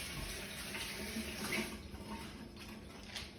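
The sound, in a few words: water running from tap while washing hands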